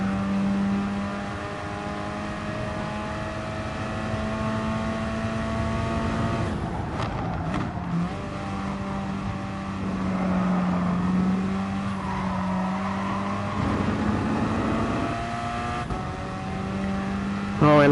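A Corvette GT race car in Gran Turismo Sport holds a steady, loud engine drone at high revs, with another car briefly rising and passing nearby, while a commentator talks over it.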